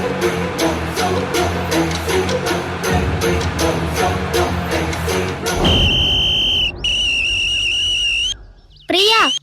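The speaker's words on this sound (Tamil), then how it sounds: "கொஞ்சம் விசில் அடிக்காம வரியா?" A person whistles a bright, rapid rhythmic tune over music, followed by a few long sustained whistle tones and a final rising whistle, loud and close.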